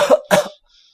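Two quick, harsh coughs close by, back to back, then silence.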